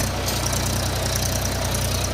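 A tractor engine runs loud and close under throttle, a dense, continuous pulsing drone with a steady low thump and no voices.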